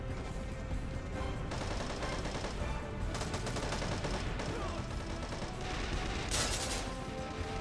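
Sustained gunfire in the Devil's Third video game, with a dense fusillade of rapid shots and bursts running continuously under a busy mix.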